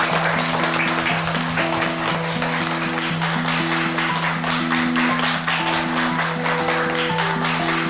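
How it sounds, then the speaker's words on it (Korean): A classroom of children claps together for a classmate receiving a good-conduct award, a dense, even patter of many hands lasting several seconds, with a soft melodic tone playing underneath. "자, 박수."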